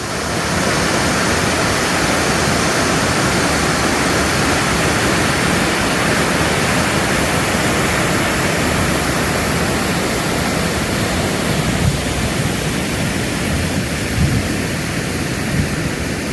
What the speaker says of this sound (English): Here's another waterfall that's not even on the map.